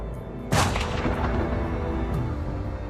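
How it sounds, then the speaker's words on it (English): A firing squad shoots rounds in an execution of wartime plotters: one sharp loud report followed by a long rolling echo and rumbling reverberation. "As the echoes of gunshots die down, Bormann fires out the message."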